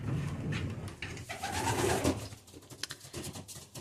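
Six racing pigeons coo steadily at close range, soft repeated low calls layered over a busy background of rustling and shuffling.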